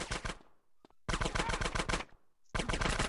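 Rapid automatic gunfire from GTA San Andreas gameplay, loud close bursts of rattling shots in three volleys separated by brief pauses, with no talking over it.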